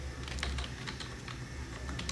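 Quick, steady keystrokes on a computer keyboard as C++ code is typed, close and fairly quiet, with no talking.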